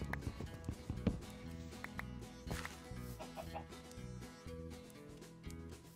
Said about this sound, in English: Don't come near me, chicken.